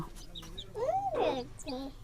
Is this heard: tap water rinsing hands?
no